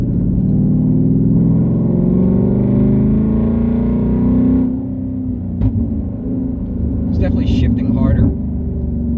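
A 2019 Ford Mustang GT fitted with a JLT cold air intake and PBD 93 tune, its engine droning loud and close as it accelerates, then dropping off with a shift, followed by quieter road rumble and a few clicks.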